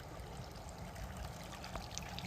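Water pours steadily from a pipe into a trough along a trail, a continuous faint splashing trickle with no talk over it.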